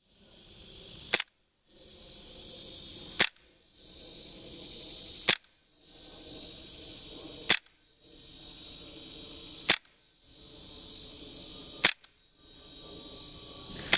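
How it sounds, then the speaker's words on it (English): A KWA HK45 gas blowback airsoft pistol fires shots at a target outdoors: seven sharp, loud cracks at roughly two-second intervals, each followed by a gap and then a steady high background hiss building back up. "take a few shots of this gun at a target"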